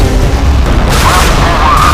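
Naval guns and missile launchers fire from a warship in the Modern Warships video game: a steady, loud booming rumble with a dense low roar that swells into a sustained burst of firing midway.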